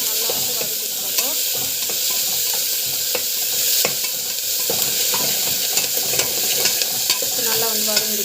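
Garlic and chana dal sautéing in a pan, a steady close sizzle with repeated stirring scrapes and clinks throughout, no talk.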